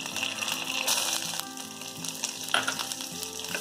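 Onion and bay leaf fry in hot oil in a nonstick pan for a tender jackfruit dish, making a loud, steady sizzle with a constant hum beneath and a brief sharper crackle near the end.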